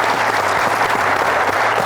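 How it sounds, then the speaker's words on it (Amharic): Warm, steady applause from a studio audience at a quiz show, dense and continuous throughout with no talking over it. "ሞቅ ያለ ጭብጨባ"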